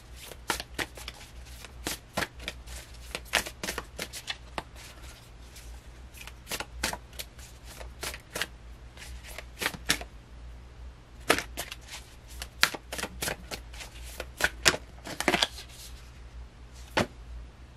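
Tarot cards being shuffled for a reading, with quiet repeated riffles and sharp card slaps in irregular bursts over a low steady hum.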